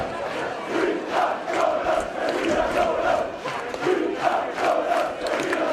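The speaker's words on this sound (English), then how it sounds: "I hope you're hearing the crowd. We certainly are. They are rejoicing." A rugby league crowd roars and cheers at the Workington Town versus Doncaster League One play-off final, a loud sustained wall of voices with rhythmic surges of chanting, heard without commentary.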